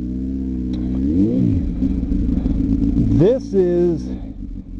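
A motorcycle engine runs while riding in Nebraska, rising and falling through several rev changes, up close and loud, with a voice talking briefly over it.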